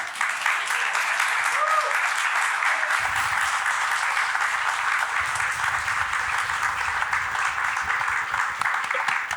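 Audience applause rising in a sustained, dense wash of clapping for a speaker at a storytelling event, loud and steady from start to finish with no talk over it.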